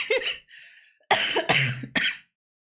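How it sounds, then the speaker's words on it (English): Someone coughs close to the microphone: a short cough, a pause, then three harsh coughs in quick succession, with no other sound around them. "Apologies, my cough is still here."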